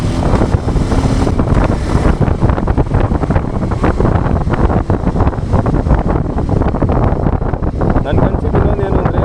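A KTM ADV 390 S motorcycle pulls in fourth gear from around 30 to 40, its engine note largely buried under heavy wind buffeting on the microphone, with a rider talking over it.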